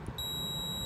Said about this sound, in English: And you should hear the beeping sound.